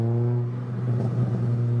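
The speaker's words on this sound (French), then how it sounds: "Juste écoute le moteur et t'es en mode ah putain." A Ford Fiesta ST engine hums loudly nearby with a deep, steady drone and strong harmonics, swelling slightly around the middle.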